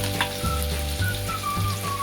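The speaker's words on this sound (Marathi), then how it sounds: "आपण याला परतून घेणार आहोत." Chilies and chopped onion sizzle steadily in hot oil in a pan with curry leaves and crushed garlic and ginger, giving a close, continuous frying hiss with faint stirring clinks and no voices.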